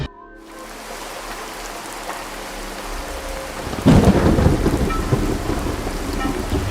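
A thunderstorm with heavy rain: steady rainfall hisses, then a loud, close thunderclap breaks in and rumbles on under the continuing downpour, with no voices.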